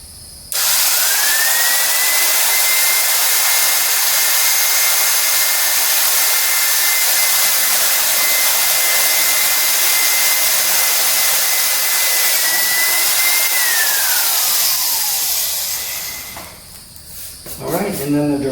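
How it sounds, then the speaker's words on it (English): A power drill bores holes in a high-power rocket body tube with its coupler. A loud, steady whirring hiss with a motor whine holds for about fifteen seconds, then the whine falls away as the drill winds down. "I'll go ahead and drill the other 2 holes now"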